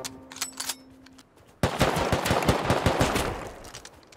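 Rapid automatic AK rifle fire in the survival game Rust bursts in suddenly after a quieter opening and rattles on continuously for a few seconds, loud and close.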